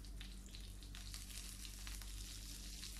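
Curry leaves sizzle in hot oil for a Kerala spinach erissery, a steady, quiet frying crackle with no voices.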